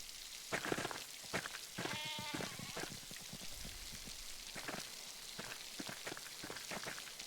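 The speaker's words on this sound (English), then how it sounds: "I think I found Johann's last lost sheep" Sheep bleat in the video game Pentiment, with a few short, soft bleats heard over steady pattering rain.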